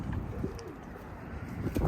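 Pigeons coo softly nearby in low, throaty calls, with a few rustles and shuffles of birds moving inside a coop.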